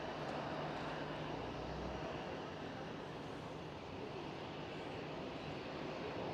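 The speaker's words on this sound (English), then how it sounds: "there goes the Finnair A350" A Finnair Airbus A350 at Schiphol airport gives a steady, loud jet engine roar that holds evenly throughout, with no voices present.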